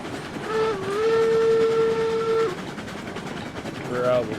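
A steam locomotive's whistle from the railroad game RailRoads Online sounds one long sustained blast, then a short toot, over the steady rumble of a train hauling boxcars.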